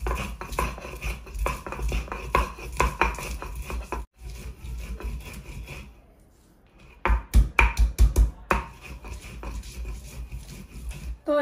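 Onions being cut or crushed on a board in a Bengali kitchen while preparing shorshe ilish, heard as close, repeated sharp knocks and scrapes with a short pause and then a quick run of rapid strikes.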